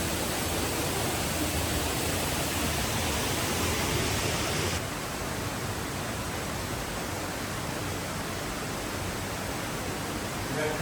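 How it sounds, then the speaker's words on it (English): Dunsinane Falls waterfall in Sri Lanka during heavy rain makes a steady, dense rushing roar that fills the whole clip, easing slightly partway through but never breaking. "near the waterfall."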